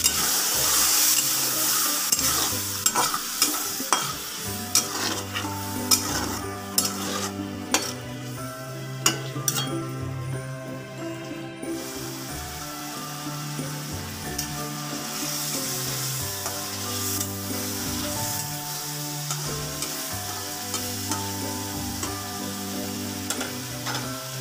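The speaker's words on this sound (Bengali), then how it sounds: "এবার মশলাটাকে ভালো করে কষিয়ে নেব" Spice masala with chilli powder and water stir-fried together with fried potatoes in a pan, a loud continuous sizzle punctuated by repeated scraping and clinking strokes of a spatula against the metal.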